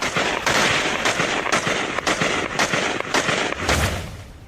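Gunfire outside the White House, a rapid string of sharp cracks repeating roughly every half second over steady street noise, loud and close, fading after about four seconds.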